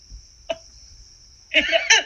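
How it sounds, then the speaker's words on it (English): A short throaty sound, then a rougher two-part throat clearing, close by and moderately loud against a faint steady hum. "once she steps up to the stage, she's gonna clear her throat"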